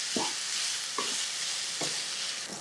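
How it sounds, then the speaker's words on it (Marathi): Washed barnyard millet sautéed in ghee, a continuous close sizzle broken by three evenly spaced scraping strokes of a spoon across the pan. "वरई तुपावर छान परतून झाली"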